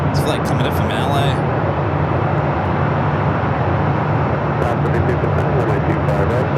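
A Frontier airliner on short final to runway 25 left at Phoenix Sky Harbor makes a steady, broad roar close by, with bursts of crackly noise at the start and end.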